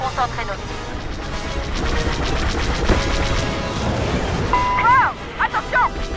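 Blaster fire and explosions in the video game Star Wars Battlefront II during a space battle, a dense loud barrage of shots and crashes with sweeping laser-like bursts near the end.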